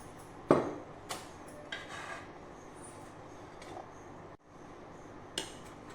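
A tablespoon of oil being spooned into a clay cooking pot while making Rajasthani khoya roti. A few sharp, spaced clinks of the spoon against the pot sound over a steady low background hiss, with no voices.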